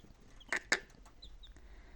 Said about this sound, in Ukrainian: Півник, напевно.